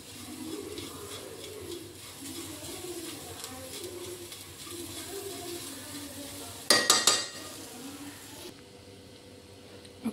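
Carrot halwa with sugar stirred in a pan, a soft scraping and faint sizzle under background bird cooing, broken near the end by a short burst of sharp metallic clatters from a utensil against the pan.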